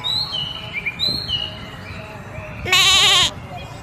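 A cartoon goat gives one loud, wavering bleat near the end of an alphabet animation, following light chirping bird-like tones and soft background music.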